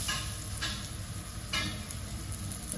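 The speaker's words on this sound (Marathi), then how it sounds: "इथे पॅन मध्ये 3 चमचे तेल घेतले, तर आपण आता मासे ठेवूया।" Bangda mackerel fish frying in about three spoons of oil in a pan, a steady close sizzle with occasional brief crackles and spatters, no talking.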